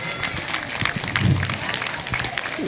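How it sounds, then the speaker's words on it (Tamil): A school audience at an annual day celebration claps in a dense, sustained burst of applause, fairly loud and close, with scattered crowd noise mixed in. "எங்கள் உற்சாகமாக எல்லா டீச்சர்ஸும் எல்லாரும் உற்சாகமாக கைத்தட்டும் பார்ப்போம்"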